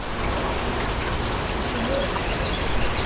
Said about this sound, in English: the rain beating down on it